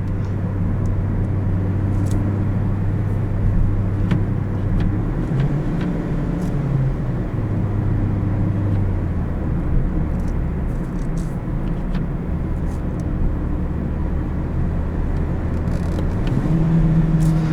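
A 2017 Toyota Yaris iA engine drones steadily under kickdown in manual mode, its low pitch shifting and climbing as it accelerates, with road rumble throughout and no talking.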